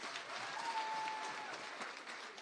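An audience at a Nairobi City County economic forum applauds steadily, a dense, even clapping sound heard from a distance that lasts the whole moment.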